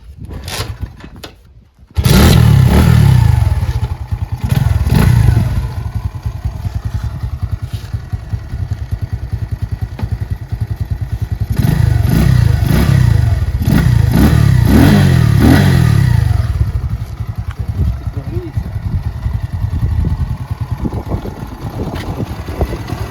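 A Spark SP125C-2AO motorcycle engine catches after a brief start attempt with the choke slightly raised, then idles loudly and revs up in several surges before settling back.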